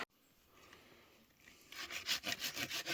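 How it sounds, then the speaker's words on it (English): A handsaw cuts firewood at a rainy lakeside campsite, starting with faint scraping and then settling into steady, rhythmic back-and-forth strokes that grow louder and nearer. "sawing us some wood for when it dries out"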